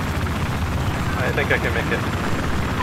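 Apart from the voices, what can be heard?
helicopter flying in video game Battlefield 4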